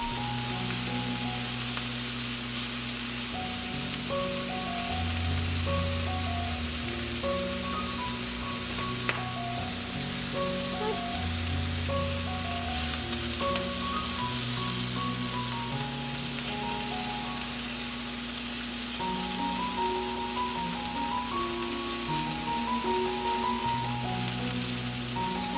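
Scallops and fish fry in a pan for a coconut-milk seafood curry, giving a steady, even sizzle with faint crackle that runs without a break, close and fairly loud, with no voices.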